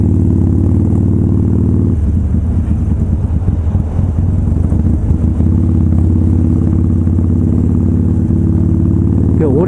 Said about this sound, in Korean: 와, 여기 바이크 많죠? 좋은 바이크가 많아요.